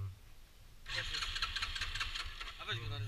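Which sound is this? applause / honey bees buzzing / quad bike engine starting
quad bike engine starting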